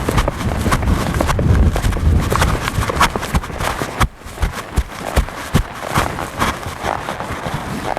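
Hoofbeats of a horse being schooled into a canter from a back-up, a loud, close, uneven rhythm of thuds with a brief lull midway, plus faint rider sounds and little talking.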